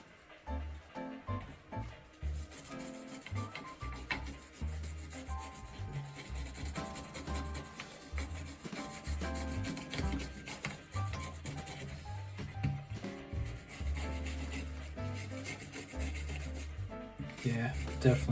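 Steady scrubbing and rubbing while cleaning dirt and grime off an Xbox 360 controller, a close, continuous rasping texture under background music.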